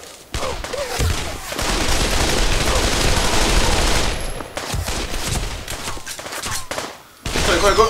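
Rapid M4 rifle fire in the VR shooter Pavlov VR, long bursts of close, loud automatic shots crackling almost continuously, broken by short pauses.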